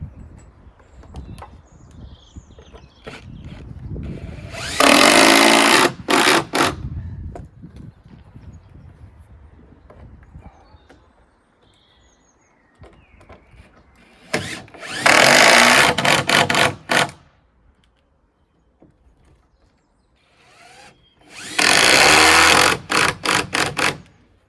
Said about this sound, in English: Put some screws in there.